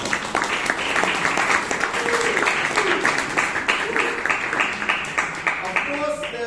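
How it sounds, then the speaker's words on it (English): Audience at a Bangalore Toastmasters club meeting breaking into applause for the speakers, many hands clapping in a steady dense patter for several seconds, with a few voices audible near the end. "Please give them a huge round of applause."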